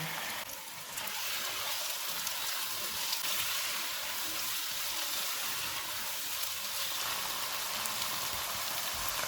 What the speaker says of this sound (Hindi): 700 ग्राम बोनलेस बीफ डालेंगे। चूल्हे को मीडियम रखेंगे, इनको 4 से 5 मिनट तक भूनेंगे।